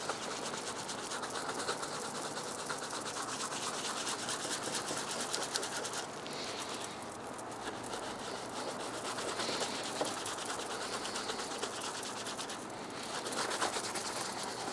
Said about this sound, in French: On prend la brosse à reluire, et on brosse énergiquement pour lustrer